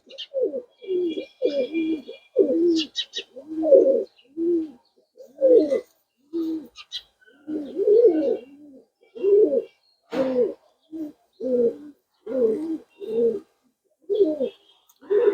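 Pigeons coo repeatedly in soft, throaty bursts, close by, with occasional small chirps from other birds in between.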